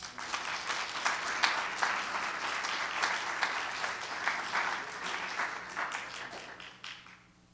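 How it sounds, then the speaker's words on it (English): At a Veterans Day ceremony held by a business school, an audience gives sustained applause, dense and even clapping that fades out toward the end. "another big round of applause"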